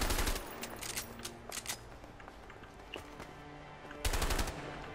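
Rapid automatic gunfire from the video game A Way Out, loud bursts at the start and again near the end, with scattered single shots and clatter in between.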